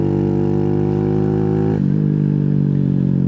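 A Honda Grom clone mini motorcycle engine drones loud and close at high revs, with a brief dip partway through as it shifts before pulling on at a steady buzzing pitch.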